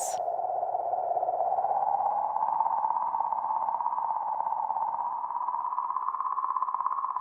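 Sonified oscillations in comet 67P's magnetic field, magnified 10,000 times: a steady, eerie tonal warble that slowly drifts upward in pitch, continuous and alone, after a brief high chirp at the start.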